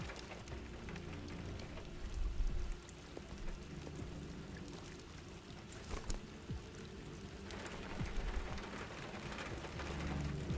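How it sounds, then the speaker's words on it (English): Steady rain drumming on a car roof in a video game, a dense continuous patter with occasional louder swells and low rumbles underneath. "the rain sounds like on the top of a car roof"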